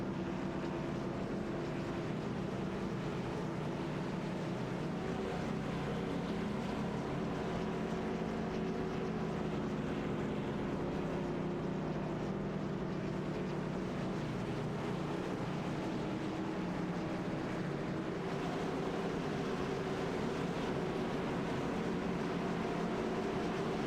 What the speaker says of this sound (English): Been listening to some of the sounds as these drivers rev their engines behind the iRacing official pace car